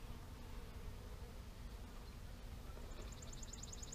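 Honey bees buzzing at a hive during a night move of beehives: a faint, steady hum under a noisy background, with a brief pulsing high buzz near the end.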